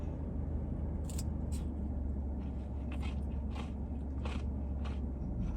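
Crisp crunching bites and chewing of fried funnel cake sticks close to the mic, several sharp crackly bursts over a steady low background rumble.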